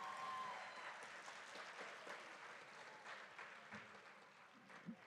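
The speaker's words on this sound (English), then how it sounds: "Please give a round of applause for the Harmony Science Academy Dallas Salutatorian" Applause from a graduation ceremony crowd at Harmony Science Academy Dallas honoring the salutatorian, steady and moderately distant, filling the hall for several seconds with scattered cheers.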